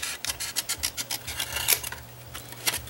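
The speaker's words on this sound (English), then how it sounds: "Then you're going to take your scissors and you're going to cut pass up the 3/4 inch" Scissors cut through paper cardstock in a quick run of close rasping snips with a short pause near the end.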